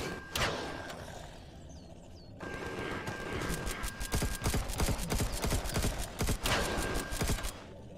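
An enhanced assault rifle fires in the video game Empyrion Galactic Survival, loud rapid bursts of shots coming in quick succession over a steady game background.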